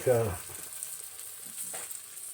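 Collard greens frying in a pan, a faint, soft sizzle that continues quietly after a brief voice at the start.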